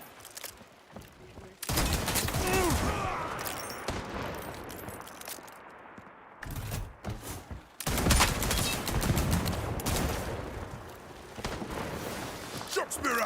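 Dense, loud gunfire in the game Highguard rattles in sustained volleys and machine-gun bursts, dropping out briefly and then resuming, with in-game voice callouts mixed in.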